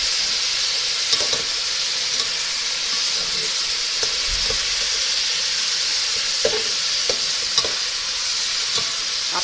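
Steady frying sizzle of meat with garlic and ginger for Peshawari namkeen gosht, with occasional stirring clicks and scrapes, close and continuous throughout, no voices.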